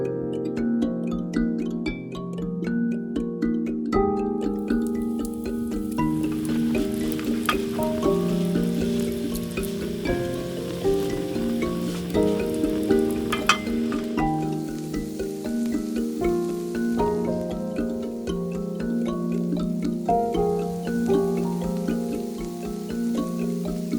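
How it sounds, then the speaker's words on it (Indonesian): Chicken frying in hot oil at a campsite on a mountain climb, a steady close sizzle and crackle running the whole time over background music, with no talk. "kita lagi masak ayam goreng nih guys"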